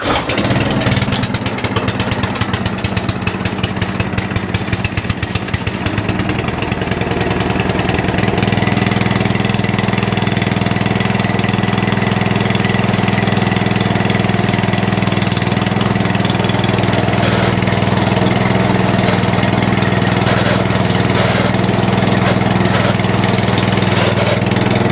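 An Atco Balmoral reel lawn mower engine clatters into life with rapid pulsing as it starts, then settles into a steady, loud, close idle that drones on alone for the remaining twenty-odd seconds.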